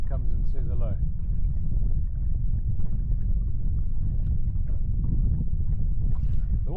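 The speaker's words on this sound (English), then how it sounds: "The wind is blowing quite strong." Strong wind buffets a small fishing boat trolling on the Gamtoos River: a steady, loud, low roar of wind against the microphone fills the whole stretch, with a voice faintly heard beneath it.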